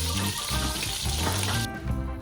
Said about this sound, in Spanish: y llenaremos la olla de agua